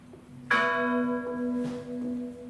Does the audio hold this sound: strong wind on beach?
no